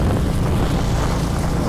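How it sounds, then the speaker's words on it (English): Strong wind buffeting the microphone outdoors during hurricane preparations, a continuous loud low rumble with no pauses. "it's windy as hell"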